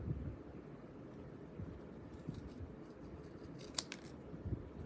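Scissors cut through paper at a crafting table, giving a few short, close snips and crisp slices over low, steady background rumble.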